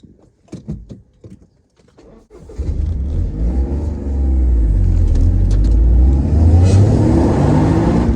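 A 2020 Toyota GR Yaris starts up after a few light clicks, and its engine rises into a loud, close, rumbling rev that holds steady and deep.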